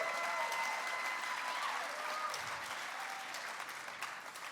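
Soft, distant applause from an audience during a spoken-word poetry performance, a steady wash of clapping with faint whistles that slowly fades.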